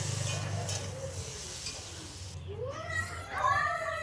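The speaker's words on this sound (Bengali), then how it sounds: "তো ভালো করে ভাজা ভাজা করে নিই" Vegetables frying with spices in a pan, a soft steady sizzle with occasional stirring, faint and close, while a voice and children's chatter are heard in the background.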